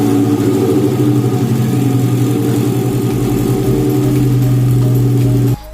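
A modified 2012 Toyota Kijang Innova with a full-system exhaust from header to tip, rally-shop built, revs hard and loud up close with a steady roaring drone for over five seconds, then drops off abruptly at the end.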